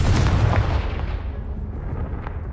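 Confringo fire spell exploding in the video game Hogwarts Legacy, a loud heavy boom that rumbles and fades over a couple of seconds, with no speech.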